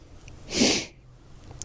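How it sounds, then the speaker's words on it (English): A single loud, close sniff of a person with sniffles from -5 degree cold, drawn in sharply through the nose, followed by quiet. "Sorry about the sniffles"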